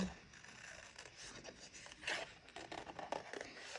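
Scissors cut through watercolor paper in a series of close, soft crisp snips and rasping slides, irregular in rhythm and fairly quiet, with no talking.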